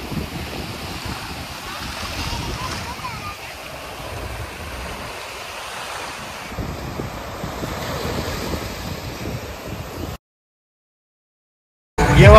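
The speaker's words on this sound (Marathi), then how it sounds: "सध्या मी जिथे आहे याला कार्ली नदी आणि अरबी समुद्र त्याचा संगम म्हणतात, देवबाग।" Sea surf and wind at the Devbag confluence of the Karli river and the Arabian Sea near Malvan, a steady close wash of waves with gusty microphone wind, broken by a short silent gap near the end.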